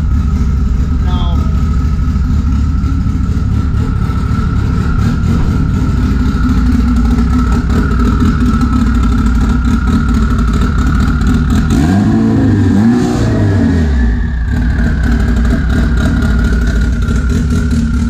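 A big-cam Honda engine at idle, loping and choppy with an uneven rumble, rising briefly in a short rev partway through, heard close and loud throughout.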